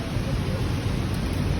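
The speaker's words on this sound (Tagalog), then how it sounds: "Rain." Heavy summer rain pours steadily in Abu Dhabi, a constant dense broadband wash of close rainfall with low rumbling underneath, heard alone without talk.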